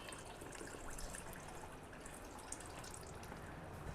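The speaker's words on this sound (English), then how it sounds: "That's a lot of fluid draining out of that." Transmission fluid draining out of a 1966 Ford Mustang C-4 automatic transmission, a steady close pouring and trickling wash of liquid that runs evenly without pause.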